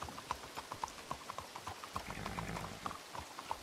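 A horse's hooves clip-clop at a walking pace near a stable in the RedM western game, a close, steady run of regular hoof strikes.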